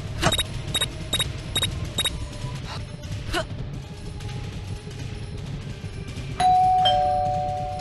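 A doorbell in Scary Teacher 3D, a rapid series of sharp, bright electronic rings repeated several times, then a pause and a longer sustained chime near the end, loud and close.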